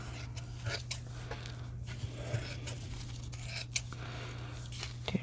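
Scissors snip through paper for a handmade envelope journal in a craft session, with repeated close, crisp cuts over a steady low background hum.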